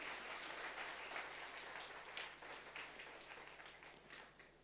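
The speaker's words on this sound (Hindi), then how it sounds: "ताली बजाइए।" An audience claps together at a spiritual talk, giving a steady, fairly faint round of applause with a low hum underneath. The applause tapers gently toward the end, with no talking over it.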